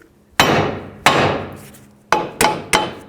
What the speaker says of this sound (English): Take a hammer right here on the knuckle, that'll break the tie rod end free.